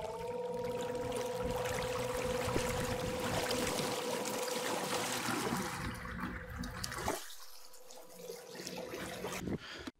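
A Haswing Protruar 1.0 electric trolling motor runs in water, a steady whine over churning, rushing water that cuts off abruptly after about seven seconds, leaving quieter splashing.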